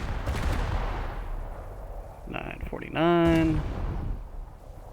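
Naval ship guns firing in the War Thunder video game, a low rumbling barrage of booms that is loudest at the start and continues faintly underneath while someone speaks briefly.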